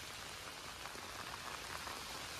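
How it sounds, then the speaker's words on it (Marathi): Rain falls steadily in the Konkan countryside, a dense, even patter that is faint and continuous throughout the brief stretch. "मी आलो इथे आणि पावसाने हजेरी लावलंय."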